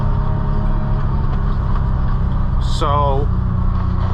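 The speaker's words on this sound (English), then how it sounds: "This beautiful 3-cylinder engine does have to wind up to move it." A John Deere Gator three-cylinder engine winds up to move the lightweight side-by-side, a steady, smooth mid-to-low drone heard from the cab, with someone speaking briefly over it.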